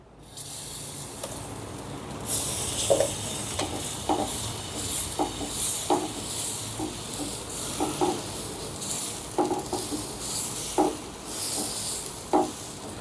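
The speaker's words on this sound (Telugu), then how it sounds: "పెన్నం వేడైందండి ఇప్పుడు దోశ వేసుకుందాం" Jowar (sorghum) dosa batter spread on a hot pan, setting off a steady close sizzle with bright hissing crackle that starts a couple of seconds in and continues with small scraping taps throughout.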